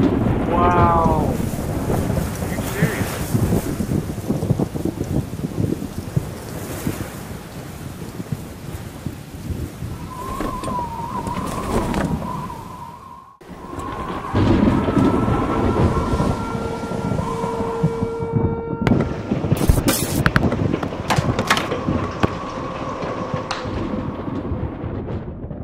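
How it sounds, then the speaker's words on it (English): Heavy hailstorm pelting down outdoors, a loud, dense, continuous rattle and roar of stones striking surfaces, with wind buffeting the microphone and a brief dropout partway through. "Pretty good hail. Wow, there's a lot."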